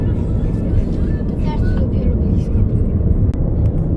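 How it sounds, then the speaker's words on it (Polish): An airplane comes in to land near Alicante airport, a loud, steady low engine roar filling the scene outdoors, with faint ambient sounds layered on top. "Zobaczcie, samolot ląduje."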